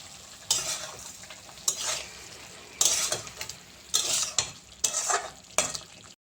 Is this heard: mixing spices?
yes